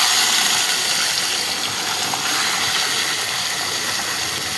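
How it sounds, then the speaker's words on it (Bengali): Meat frying in a pan with salt and turmeric, a steady broadband sizzle and hiss that keeps going without a break, fairly loud and close, with no talk over it. "এখন মাংসটা ফ্রাই করে নেব, ভেজে নেব।"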